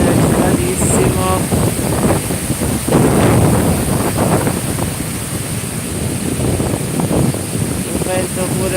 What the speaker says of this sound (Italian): il mare è agitatissimo